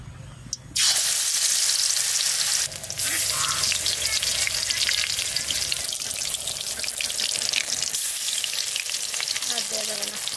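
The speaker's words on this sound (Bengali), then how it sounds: "কুমড়ো ফুলের বড়া করব তেল দিয়ে। এবার কুমড়ো ফুলগুলো চুবাবো আর ছাড়বো" Pumpkin flower fritters frying in hot oil: a loud, steady sizzle that runs throughout, with a sharp burst near the start as battered blossoms hit the pan.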